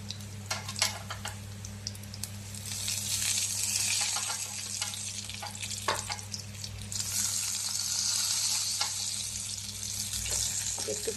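A whole dried red chilli slit at the edge and whole cumin seeds fry in hot oil for a paneer masala, giving a steady bright sizzle with occasional spoon scrapes and clinks, a low hum underneath and a faint voice at times.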